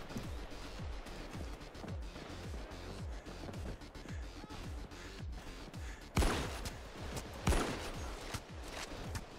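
Heavy gunfire in Payday 2 during a tunnel shootout, a rapid stream of shots with sharper crashing hits near the end, loud and continuous.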